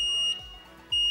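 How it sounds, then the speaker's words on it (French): A faint electronic beep from a diesel particulate filter cleaning machine at the end of cleaning sounds, pauses briefly, then beeps again, thin and high-pitched over a quiet background. "la machine émet un bip"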